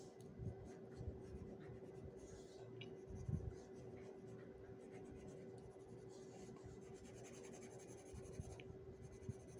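Pencil strokes scratching across paper while curly hair is drawn on a portrait, quiet and close, in short irregular bursts with a slightly heavier scribble partway through over a faint steady hum.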